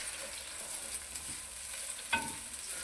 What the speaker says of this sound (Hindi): ऐसे आपने फ्राई करना हल्का सा, ज़्यादा तेज़ फ्राई नहीं करना